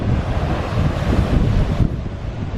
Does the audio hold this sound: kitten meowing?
no